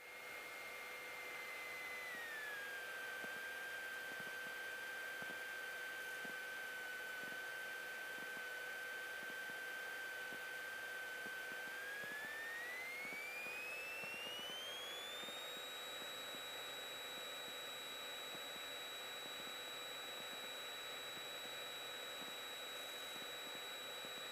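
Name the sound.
aircraft engines on takeoff roll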